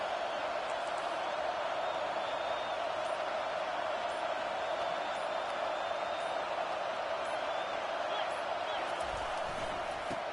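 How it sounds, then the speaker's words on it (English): Stadium crowd in the football video game Madden roars steadily through a big third-down play, a constant dense wash of cheering with no breaks, loud and continuous throughout. "Big 3rd down as the crowd gets behind this defense."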